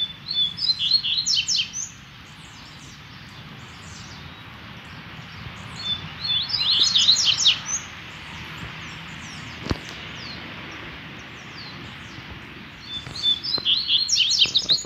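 A caged double-collared seedeater, or coleiro, sings in bright, rapid bursts of high chirping phrases, separated by pauses filled with low room noise. The song is loud and close, with no talking.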